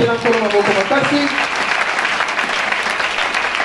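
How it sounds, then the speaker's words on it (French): A church congregation breaks into loud, close applause and cheering, dense clapping with voices mixed in, fading slightly toward the end. "Acclamons pour le Seigneur."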